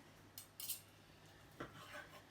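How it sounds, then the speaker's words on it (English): Knife work on chicken for shawarma, a few light, crisp clicks and taps of a blade against a board and utensils, quiet and sparse in a home kitchen. "So she's still chopping?"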